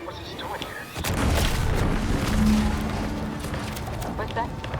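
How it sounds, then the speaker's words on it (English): An explosion in the video game Outer Worlds 2 erupts as a loud, sustained rumbling boom with crackling debris, while a voice talks over it. "What's that? An explosion?"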